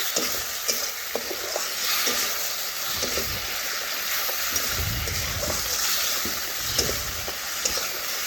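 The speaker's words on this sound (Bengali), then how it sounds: "লবণও নাড়াচাড়া করে মিশিয়ে নিচ্ছি।" Pointed gourd stirred with salt and masala in a pan, a steady sizzle of frying under repeated scraping strokes of a spoon against the metal, close and continuous with no talking.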